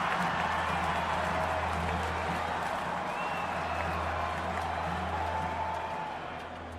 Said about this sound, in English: Sounds like we are approaching the end because the crowd's getting louder.